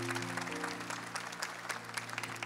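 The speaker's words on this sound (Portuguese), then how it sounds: "Vamos acolher com palmas a caravana." A crowd applauds a visiting parish caravan group from São José da Laje, Alagoas, at a church rosary gathering, with dense steady clapping throughout and a low musical hum underneath.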